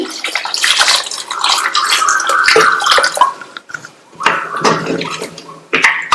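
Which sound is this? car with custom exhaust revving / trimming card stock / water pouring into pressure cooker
water pouring into pressure cooker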